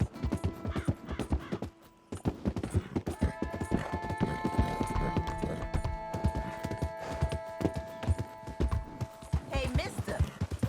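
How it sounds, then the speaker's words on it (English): Horse hooves clip-clop at a steady walking rhythm in the Western video game Red Dead Redemption 2, close and clear, with a voice talking over them and some background tones. "that's one nice-looking horse you got there"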